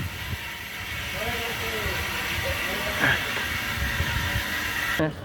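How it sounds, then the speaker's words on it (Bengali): Steady rumble and hiss of a tram in motion heard from inside, with occasional clatter and a brief bell-like tone near the end. "দারুণ লাগে ট্রামে চাপতে।"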